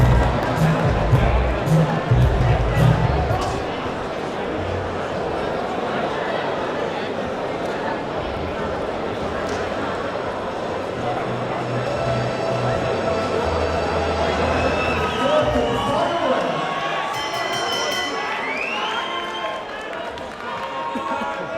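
Boxing crowd at Liverpool's Olympia shouting during a fight, a loud continuous roar of voices under a commentator's talk, swelling briefly near the start.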